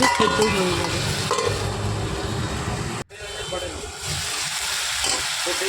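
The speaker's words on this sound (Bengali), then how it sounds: "সব সবজি মোটামুটি ভাজা হয়ে গেছে" Vegetables and raw mango frying in a pan with salt and turmeric, a steady loud sizzle with stirring scrapes throughout, briefly cutting out midway before resuming, with a voice talking under it.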